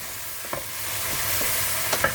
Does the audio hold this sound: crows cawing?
no